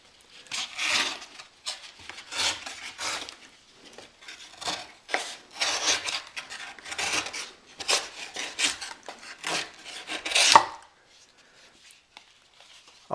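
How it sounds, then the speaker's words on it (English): A Bear Grylls Ultimate Survival Knife whittling a piece of cardboard, close-up bursts of rasping, scraping strokes in an irregular rhythm, about a dozen over the stretch, with short pauses between them and a quiet tail at the end. "So here's another piece of cardboard, and I'm going to whittle away here."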